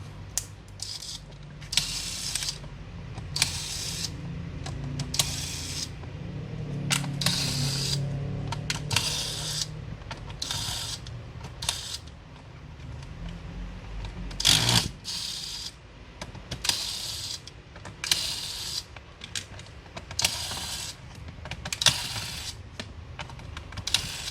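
Screws being removed from the underside of an Acer E1-430G laptop after the battery is taken out. Repeated short clicking and ticking bursts come close to the microphone in an irregular rhythm, with faint handling noise between them.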